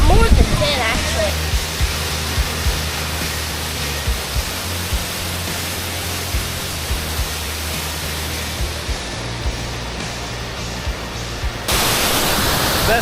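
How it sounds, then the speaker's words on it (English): High Falls waterfall roaring as a steady, dense wash of broadband noise, close and loud throughout, with faint low hum underneath and a brief burst of extra brightness near the end. "Best waterfall yet. High Falls."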